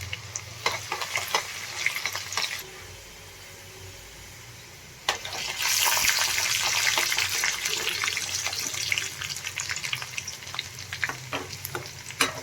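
Garlic sizzles and fries steadily in a pan of cumin for a Gujarati methi bhaji, with stirring scrapes; the frying grows louder and denser about midway and continues without speech.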